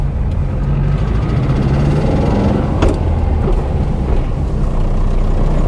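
Porsche 912 flat-four engine droning steadily from inside the car while driving, loud and continuous with a low rumbling tone and a brief shift transient midway, no speech.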